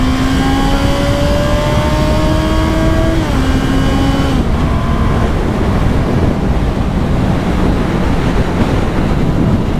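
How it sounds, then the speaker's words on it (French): Wind roars across the microphone during a motorcycle ride through a city centre. It is a loud, steady, gusty rush from start to finish, with faint engine tones showing early on. "Il y a du vent."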